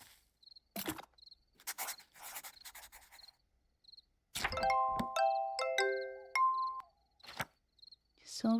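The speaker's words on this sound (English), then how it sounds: "This silver bell-shaped flower also produces a mellow sound like that of a bell." Silver star bell flower in a video game ringing out a mellow, bell-like chime: a cluster of sustained tonal notes sounds alone after a soft, rustling opening, with a faint repeating high chirp throughout.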